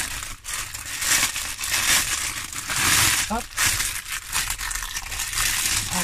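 Small plastic diamond-painting beads rustle and crinkle inside a bag, the shuffling close and busy, with a voice talking faintly underneath.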